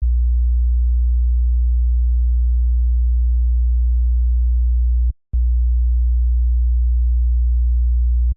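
A steady 60 Hz sine tone from a kick drum track hums low and loud, cut off by a short break near the middle before resuming unchanged, with no other sound.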